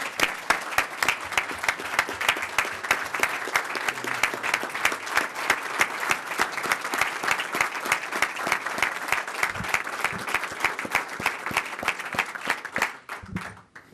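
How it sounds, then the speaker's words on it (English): A room full of people applauds at a community legislative event, dense steady clapping that holds strong for about thirteen seconds before tapering off near the end. "I just wanted to give him a round of applause and publicly acknowledge him"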